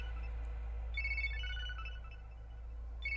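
A mobile phone ringtone sounds during a Hindi action film fight scene, playing a short, bright melodic pattern that fades quietly and then restarts over a steady low hum, with no talk.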